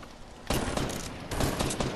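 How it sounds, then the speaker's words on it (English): Heavy gunfire from a video game firefight bursts in suddenly and stays dense and loud, a continuous spray of shots with a brief lull before another intense volley. "Oh shit, I'm getting shot in my back."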